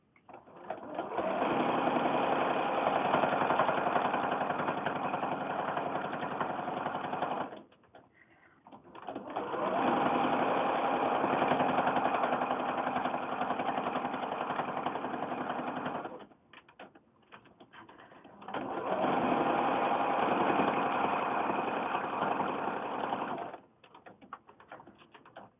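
Sewing machine stitching fabric while joining small 4-inch quilt swap blocks into a mini quilt, running in three steady bursts of about seven seconds each with brief pauses between, close and fairly loud.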